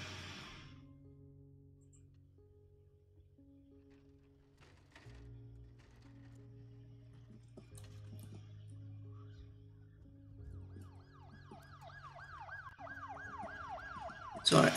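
A video game ambulance siren in Project Hospital wails, sweeping up and down near the end, rising loudly over a steady electronic hum and low droning tones.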